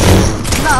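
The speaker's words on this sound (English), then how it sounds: "Why isn't none of my bullets hitting this guy when I'm shooting right at him, bro?" Gunfire in the Fortnite video game, a loud burst of rapid shots with booming thuds, heard under excited talk from a player.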